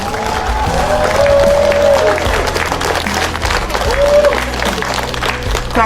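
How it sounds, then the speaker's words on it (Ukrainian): An audience at a charity event in Odesa applauds, a dense, sustained wave of clapping from a crowd with faint cheering mixed in. "Тож ваші аплодисменти Олександру Юревичу Златину."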